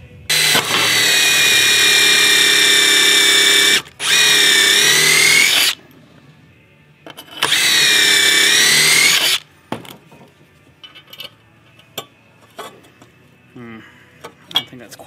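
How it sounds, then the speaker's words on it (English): A power drill pre-drills holes in a deck board in three loud, sustained bursts of whining motor, each a few seconds long and separated by pauses, followed by softer clicks and handling noises. "when I pre-drill the holes, there's no surface, that this doesn't stick up above the surface"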